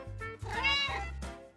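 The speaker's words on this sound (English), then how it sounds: "I think a cat just got inside the house." A cat meows indoors: one close, drawn-out meow with a rising and falling pitch, heard on its own.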